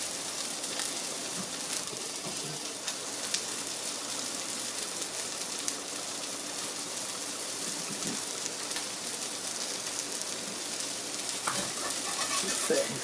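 A steady, close sizzle of a Beyond Meat burger frying in a pan, crackling evenly throughout with faint clicks and no talking over it.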